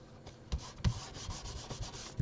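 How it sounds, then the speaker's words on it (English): A bone folder rubbed firmly along the crease of folded paper, giving a short dry scraping with several quick strokes, close and fairly quiet. "fold it over and give it a good rub with your bone folder on either side"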